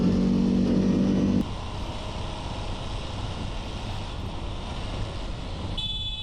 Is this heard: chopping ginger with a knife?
no